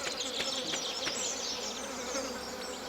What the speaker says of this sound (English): here's Stardew Valley with music turned off. Listen, ambient sounds